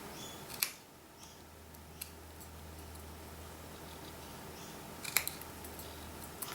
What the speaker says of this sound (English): Snip it at the end and then cut to my snip.